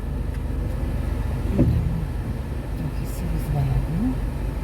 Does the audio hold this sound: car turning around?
yes